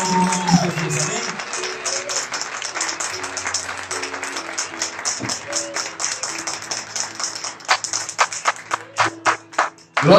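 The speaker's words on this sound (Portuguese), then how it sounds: "Que você possa dar a melhor salva de palmas para Jesus nessa noite." A church congregation claps for Jesus during an evening service, many hands clapping steadily with sustained voices and murmuring underneath, growing into louder, more distinct individual claps toward the end.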